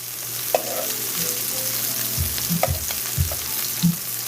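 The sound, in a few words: shrimp searing in a SODAY pan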